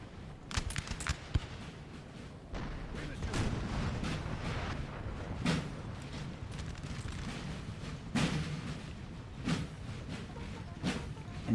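Napoleonic-era musket volleys and artillery booms in a Total War 3 multiplayer battle, irregular heavy thumps and crackling bursts rolling continuously over a dense battlefield din.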